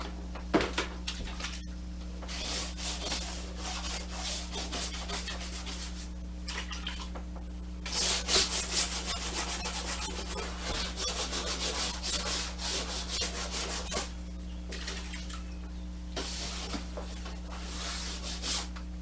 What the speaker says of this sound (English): Now I'm going to use my scrub brush and my cloth,